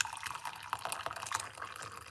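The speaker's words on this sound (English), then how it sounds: "So what we're going to do, pour it off naturally." Tea poured from a pot into a cup makes a continuous bubbling, splashing trickle with small gurgles, close and moderately quiet, running steadily without pause and without talking.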